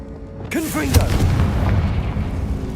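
Confringo explosive spell cast in the Hogwarts Legacy video game: a short whooshing cast with a brief vocal-like swoop, then a loud booming blast that rumbles and decays over the following seconds.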